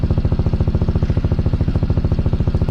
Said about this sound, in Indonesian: kalau ini ARM Luster dalam keadaan idle